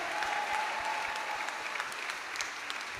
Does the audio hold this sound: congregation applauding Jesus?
yes